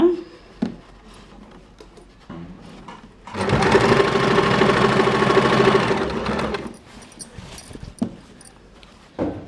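A sewing machine stitches elastic onto fabric while sewing children's underwear, running in one steady, fairly loud burst of about three seconds with quieter handling noises before and after.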